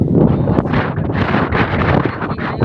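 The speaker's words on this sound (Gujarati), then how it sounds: "પવન ફૂલ આવે છે" Strong wind gusts buffet the microphone in a rural Gujarat setting during heavy rain, loud roaring rushes that swell and dip in quick irregular bursts, close and continuous with no voices.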